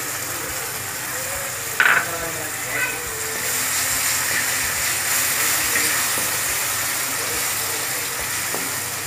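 Sour yogurt and cashew paste hit hot masala in a pan and give a steady, hissing sizzle that swells and holds, with a brief clatter near the start and no talk.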